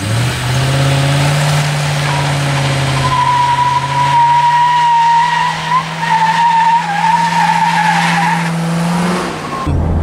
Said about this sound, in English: It's got enough to kind of do a burnout.